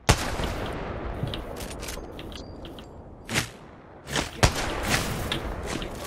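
Gunfire during an Apex Legends duos firefight, with sharp shots breaking out several times over a steady game din, the loudest cracks landing near the end.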